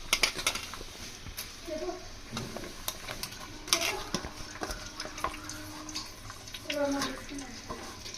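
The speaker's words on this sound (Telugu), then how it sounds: "ఈ ఆనియన్స్ గోల్డెన్ బ్రౌన్ కలర్ వచ్చే వరకు ఫ్రై చేసుకోవాలి." Sliced onions frying in hot oil for fish biryani, a faint crackling sizzle with stirring scrapes and drips, under a voice talking at moments.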